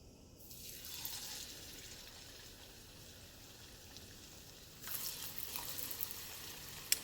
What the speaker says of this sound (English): So I'm going to start frying these pieces.